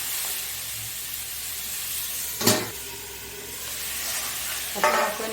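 Medium-sized tomatoes fry in a pan for a Veg Maratha curry, with a constant near hiss of sizzling broken by two brief scraping stirs.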